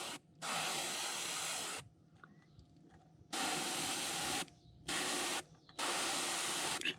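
An airbrush sprays paint onto a crankbait lure in four separate bursts of airy hiss, each one to two seconds long, close and soft, with quiet gaps between them.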